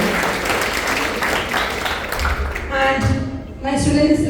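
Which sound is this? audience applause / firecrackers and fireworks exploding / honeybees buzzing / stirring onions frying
audience applause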